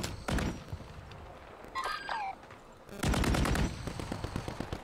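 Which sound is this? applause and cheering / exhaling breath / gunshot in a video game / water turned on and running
gunshot in a video game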